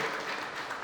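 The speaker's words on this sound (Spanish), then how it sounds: "Quiero solicitar un fuerte aplauso para todos los artistas que nos deleitaron con su arte" Brief burst of steady clapping from an audience honouring artists at a Bolívar exhibition event, moderately distant and continuous through the whole moment.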